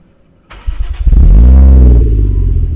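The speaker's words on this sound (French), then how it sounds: "démarrer le moteur pour qu'on entende bien le son" A Toyota Chaser's 1JZ engine cranks briefly, then catches and settles into a loud, deep idle close by, outdoors in wind.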